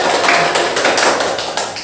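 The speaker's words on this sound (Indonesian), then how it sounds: "Betul sekali, kita kasih aplaus." Brief burst of group applause in a classroom counseling session, dense close clapping lasting a couple of seconds with no talk.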